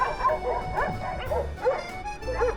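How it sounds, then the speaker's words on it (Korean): Several dogs gathered on a hill in Skopje, North Macedonia, barking and yipping in overlapping bursts, some higher-pitched and whiny, fairly close with a steady background hum. "저기 왜 이렇게 강아지가 많아"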